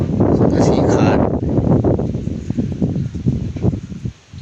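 Strong wind blowing across an open field, a loud, continuous roar buffeting the microphone that eases and gusts, with a person's voice partly heard under it.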